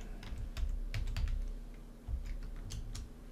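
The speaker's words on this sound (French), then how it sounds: "je tape une virgule" Code is typed on a computer keyboard during WordPress theme work, irregular quiet key clicks in short bursts over a low steady hum, fairly close and with no voice.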